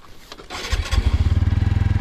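A TVS Apache motorcycle engine cranks and fires back up after stalling, settling into a loud, close, steady pulsing idle.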